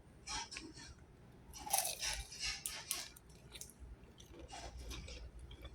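Biting into a crunchy homemade egg roll, with a few close, quiet crackling crunches followed by soft chewing, no talk.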